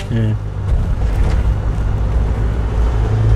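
Steady low engine hum of a car driving at moderate speed in third gear, continuous throughout, with a voice speaking over it.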